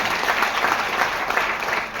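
Loud, dense applause from an audience at a DXN camp gathering in Gaya, Bihar, a steady wall of clapping with no gaps, near and alone.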